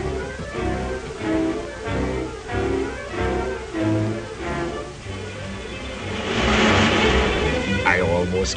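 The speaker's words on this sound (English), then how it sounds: "There's a car coming." A 1930s car engine approaches along a road, swelling into a louder rushing pass near the end, under spoken narration.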